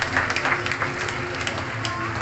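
A bird-show audience at an outdoor raptor park claps for an Andean condor, a moderate scattered patter of hands lasting a couple of seconds with a voice talking over it.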